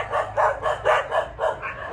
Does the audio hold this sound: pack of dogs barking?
yes